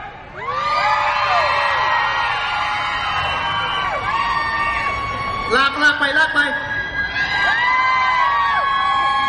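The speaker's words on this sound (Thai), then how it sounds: "ขอเสียงกรี๊ดดังๆให้กับพวกเขาหน่อยครับ" A large comedy show audience screams and cheers loudly and continuously, with shrill whoops rising over the noise and a voice calling out partway through.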